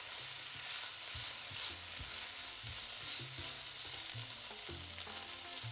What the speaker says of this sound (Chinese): 和猪肉一起翻炒。